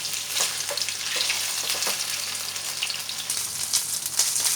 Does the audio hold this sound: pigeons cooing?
no